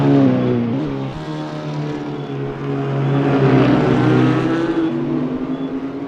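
GT3 race cars, an Alpine and a Porsche, race at Mount Panorama, Bathurst, with loud, close engines that drone and rise in pitch under acceleration, the roar swelling midway before easing off.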